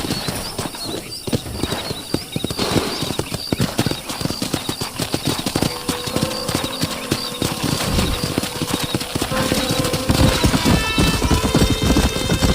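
Horse hooves clip-clop in quick, uneven rhythm in Red Dead Redemption, with a horse whinnying and game sound effects layered over the galloping.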